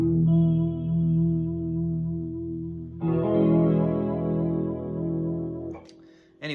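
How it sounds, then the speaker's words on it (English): An electric guitar runs through a vibrato pedal similar to a Boss vibrato, sustained notes wobbling in pitch across two held chords, then a brief sharp pick noise at the end. "it's almost like the boss vibrato sound"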